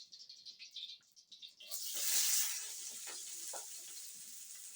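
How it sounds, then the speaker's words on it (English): Onions dropped into hot oil in an African village kitchen, a sudden loud sizzle bursting in and then settling into a steady crackling fry, close by. "when the oil is ready, I put the onions."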